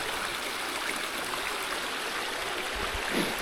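A creek on a Fall Branch Falls trail in North Georgia flows with a steady broadband rush, constant and moderately close, with a soft low thump near the end.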